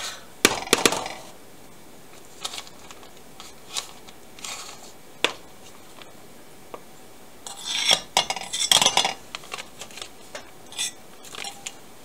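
A utensil scrapes melted butter from a container into a flour mixture in a bowl for homemade bread, giving sharp irregular clinks and scrapes, a cluster at the start and another busier burst later, with quiet gaps between.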